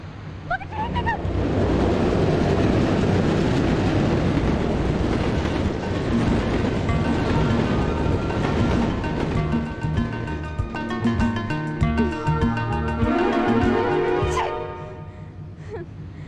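A train passes in a loud, sustained rumble of wheels and carriages that swells, holds, then fades, with a brief high tone near the end.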